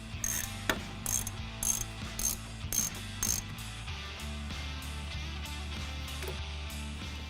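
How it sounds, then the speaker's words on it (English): A hand ratchet tightening brake caliper retainer bolts, a series of quick close clicking bursts in a steady rhythm, with a low mechanical hum underneath and then a stretch of quieter clicking. "go ahead and put your calipers back on by tightening the retainer bolts on the back side of your caliper."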